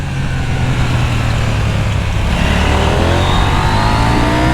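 A KTM Super Duke motorcycle screams at high revs on a racing circuit, loud and close, its engine note climbing steadily as it accelerates through the whole stretch.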